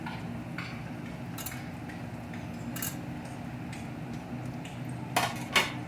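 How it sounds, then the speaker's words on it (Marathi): A utensil scrapes and clinks in a pan as eggplant goes into masala for a quick eggplant and potato dish, with light taps under a low steady hum and two sharper clanks near the end. "यामध्ये आपण आता वांगी घालूया"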